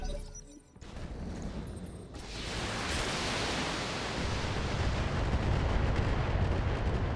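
Mech weapons firing in the tactical game BattleTech, a sudden roaring barrage that swells into a sustained, dense blast of noise and rumble.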